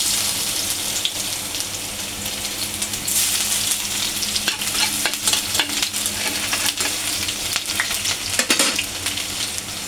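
Garlic fries loudly in oil in a pan, a dense close sizzle with crackling pops and spatter running throughout, joined by occasional stirring scrapes.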